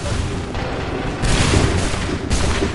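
Soldiers fire a musket volley on command in Assassin's Creed 3, heard as loud booming, rumbling blasts that swell in two waves over a continuous battlefield din.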